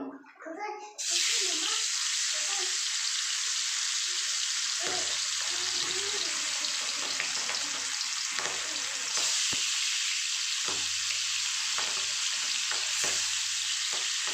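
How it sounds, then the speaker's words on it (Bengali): Bata fish frying in hot oil for a spicy fish curry gives a loud, steady, close sizzle that starts after a second and runs throughout, with faint low kitchen sounds beneath. "দেখুন তেল গরম হয়ে গেছে আমি মাছগুলো ভেজে নেব"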